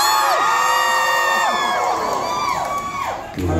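A drag show audience in Perth cheering and screaming: a loud, dense crowd roar with repeated high whoops and shrieks sweeping up and down, continuous until it dips near the end.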